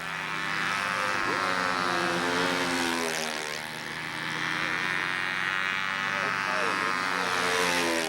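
A model U-control airplane engine, on a B-25 model, runs with a steady, loud droning buzz full of harmonics, rising and dipping slightly in pitch as it circles, with a voice talking over it.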